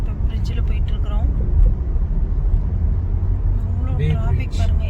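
Road traffic on the Bay Bridge rumbles steadily from inside a moving vehicle, a constant low engine and tyre drone with a person talking over it.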